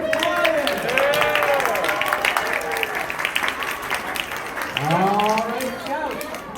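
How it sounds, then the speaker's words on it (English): A crowd at a Scout Pinewood Derby claps and cheers for the Lions, with steady dense applause and rising whoops and shouts throughout, loud and close. "Can we get a quick round of applause and cheers for the Lions?"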